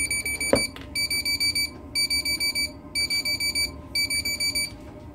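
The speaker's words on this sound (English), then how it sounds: "Got a good warning beeper." Warning beeper on a Power Genius PG T610 120W lipo battery balance charger, sounding in fast bursts of about four to six high, piercing electronic beeps repeating steadily, close and alone after a brief click at the start.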